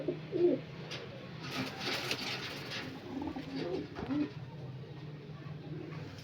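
A blue-eyed Panjabi malwai pigeon and others nearby coo in low, rolling bursts, moderately close, with a voice talking faintly over parts of it.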